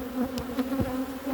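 Honey bees buzz on a hive frame during a hive inspection, a close, steady droning hum with a few brief louder passes from individual bees.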